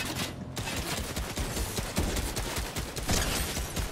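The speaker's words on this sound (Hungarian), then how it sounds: "Ez a nagy lövöldözés?" Rapid bursts of gunfire rattle continuously through a Fortnite match, dense and loud with overlapping shots and no pauses.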